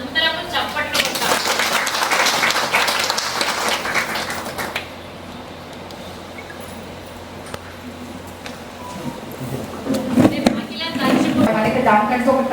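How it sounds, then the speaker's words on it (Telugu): Audience applause breaks out at a Women's Day celebration at the Nizamabad Press Club, a dense burst of clapping at the start fading into room murmur before a second round of clapping near the end. "దానికి మనం అందరము చప్పట్లు కొట్టాం."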